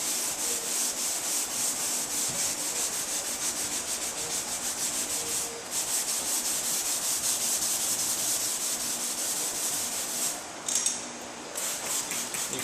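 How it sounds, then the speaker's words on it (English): Hand sanding of repaired bodywork on a 2004 Cadillac DeVille fender to remove guide coat, with a continuous close, hissing abrasive rub in steady back-and-forth strokes and a short pause near the end. "I'm going to sand this till the guide coat's gone."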